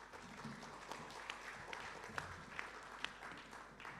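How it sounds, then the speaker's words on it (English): Faint, distant applause fills a hall at an art forum symposium, with a soft, even patter and a few sharper individual claps standing out near the end. "a big round of applause for panel"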